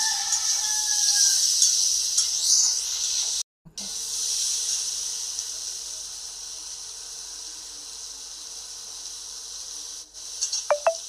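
Chopped tomato hitting hot spice paste in a pan, giving a steady bright hiss that carries on while being stirred, with a brief break and a few clinks near the end.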